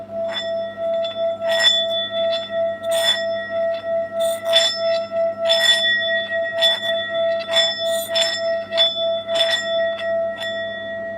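A bell rings again and again at an irregular pace, each strike clear and ringing out with a long, steady tone, close and fairly loud, with no voices over it.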